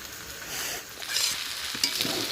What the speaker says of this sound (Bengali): এইভাবে এক মিনিট পরে পরে নেড়ে চেড়ে টোটাল চার থেকে পাঁচ মিনিট সময় নিয়ে ভেজে নেব